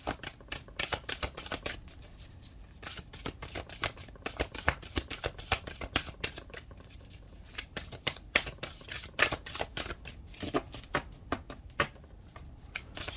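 A large deck of 88 oracle cards is shuffled by hand, producing repeated crisp riffling bursts and soft slaps in an irregular rhythm, close and fairly quiet, with no talk over it.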